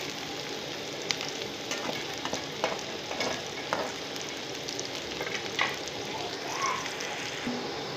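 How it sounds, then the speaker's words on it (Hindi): Sliced onions sizzle and fry in a pan until golden while being stirred, a soft steady crackle with occasional scraping clicks of the spoon, fairly quiet and close. "इसी को फ्राई करें। प्याज गोल्डन होने तक हमें इसको भूनना है।"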